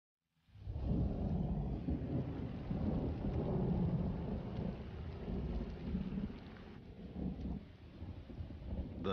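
Steady heavy rain roars with deep rumbling thunder, a thunderstorm over open plains that starts abruptly and stays loud and continuous throughout, with no voices.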